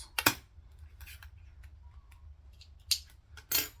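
A few sharp scissor snips trimming thread tails, spaced irregularly, close and crisp against a quiet background.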